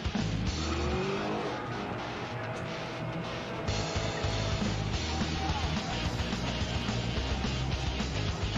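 An Audi and a pickup truck race on a track, a loud, continuous engine roar with tire squeal and skidding that holds steady throughout, no voices heard.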